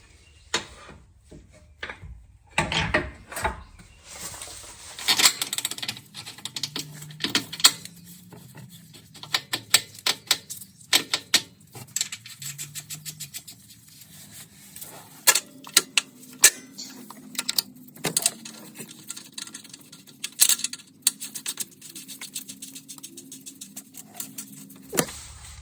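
Metal bolts clink and ratchet in short, irregular bursts of tool clicks and scrapes while a lower control arm is fitted on a 2013 Nissan Pathfinder, with quiet gaps between the bursts and no talk.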